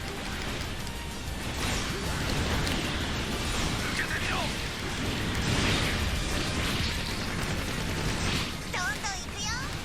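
Rail cannon fire and explosions from the mecha action game Gundam Breaker 3 form a dense, continuous barrage of booms, bursts and whooshing effects, with sharp blasts near the end.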